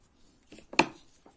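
Scissors snip through leftover scrap yarn fixed beneath a crocheted railing piece: one crisp, close cut stands out, with faint handling rustles just before it and a softer touch after.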